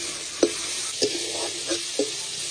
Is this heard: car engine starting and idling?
no